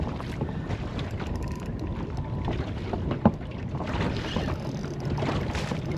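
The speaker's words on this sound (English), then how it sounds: "I'm facing right into the wind." Strong wind buffets a small boat out on Lake Macquarie, producing a steady, close roar of gusts against the microphone with faint water movement underneath and a single sharp knock midway.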